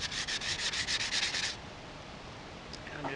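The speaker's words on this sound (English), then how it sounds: "all the sanding we need with the 150 grit" Hand sanding of boat gel coat with 150 grit sandpaper: about 1.5 seconds of steady, rhythmic back-and-forth rubbing strokes, close and fairly quiet, then near silence.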